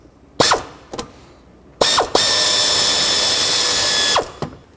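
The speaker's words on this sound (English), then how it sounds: "Drop a 10mm socket on there and then try to break it free." A ratchet with a 10mm socket clicks on the nut holding the transmission dipstick tube of a Chevrolet Express van, with short close bursts of clicking followed by a longer sustained run of ratcheting, loud and with no talk.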